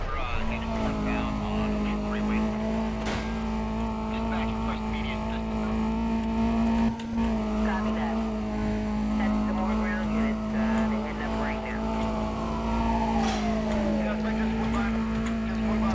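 A car accelerating flat out in the racing game Need for Speed: Undercover, its engine holding a loud, steady high-revving drone with shifting pitch, while someone talks over it.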